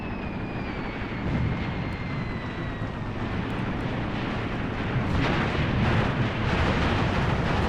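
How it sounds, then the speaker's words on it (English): Heavy gunfire and explosions in a modern jungle combat wargame set in Africa, a dense, continuous rumbling barrage of blasts and rounds with a faint high whine early on, loud and without talk. "That pretty damn heavy fire"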